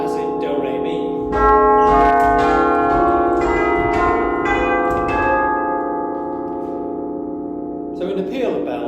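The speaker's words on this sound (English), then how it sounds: "in a peal of bells, for example at a wedding or prior to church, you ring the 8 notes in a sequence." Church bells of Rossett Christ Church ring in a peal, with several rich, resonant strikes overlapping and decaying into a sustained ringing wash, loud and close, fading toward the end before another strike.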